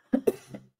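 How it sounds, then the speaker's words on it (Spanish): Two sharp, close coughing bursts come in quick succession, then a softer third, as a person sneezes and coughs together during a talk broadcast. "Me dio un estornudo con tos."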